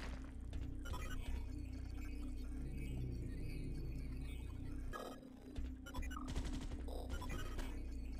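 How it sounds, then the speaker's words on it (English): Bursts of rapid gunfire in the video game Space Beast Terror Fright crackle over a constant low hum, with a brief lull near the middle before the shots pick up again. "I am hearing some gunshots."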